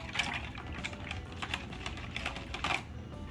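Mustard dressing seasoned with salt and pepper whisked briskly in a bowl, a fast continuous run of light clicking taps against the sides for a few seconds, close and steady.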